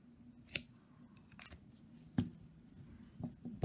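Scissors snip crochet yarn in a few quick, close, quiet cuts scattered over a few seconds.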